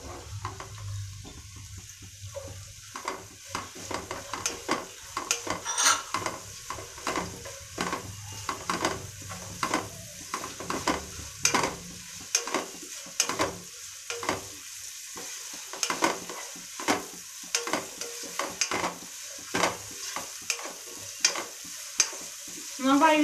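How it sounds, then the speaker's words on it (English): Green chilies frying and being stirred in a pan over a medium flame for semiya upma, with steady close sizzling and repeated scraping strokes of a spoon throughout, no voices. "Let the flame be medium, don't make it high. Now I'll add green chilies."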